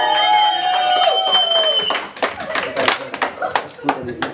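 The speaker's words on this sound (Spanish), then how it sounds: "Y el aplauso para ustedes, familia" A family birthday party audience claps for a youth mariachi band; the clapping picks up partway through, dense and close, with voices and a held musical tone fading out beneath it.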